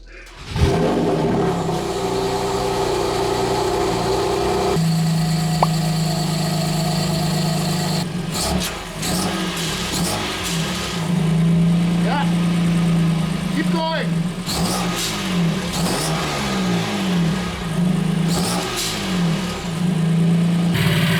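A BMW M2 Competition fitted with CTS downpipes idles loudly, then revs in steady repeated blips and holds at higher engine speed, with brief talk over the exhaust note.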